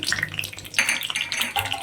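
Cumin seeds dropped into hot ghee in a pan for a dal tempering: a close, crackling sizzle with bright spitting pops and light metallic scraping, loud and busy over about two seconds.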